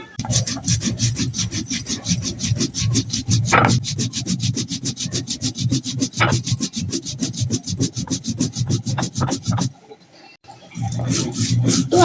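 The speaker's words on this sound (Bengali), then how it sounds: "এখানে আমি জিরা বেটে তারপরে আপনাদেরকে বলতেছি যে আদৌ ধার হয়েছে কিনা" Cumin seeds are ground on a stone slab (pata) with a stone, a steady rhythmic rubbing and rasping that repeats quickly and loudly for about ten seconds, breaks off briefly, then resumes.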